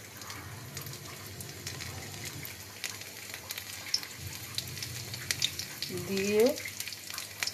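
Chopped garlic fries in hot oil for pasta, a low steady sizzle with scattered crackles, joined briefly by a word of speech and a rising squeaky scrape near the end.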